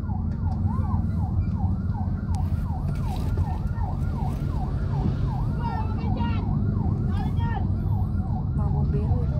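Wailing fire truck siren sweeps up and down repeatedly in a fast cycle during a wildfire in Cavite, heard at moderate distance over rumbling traffic and crowd noise, with people talking.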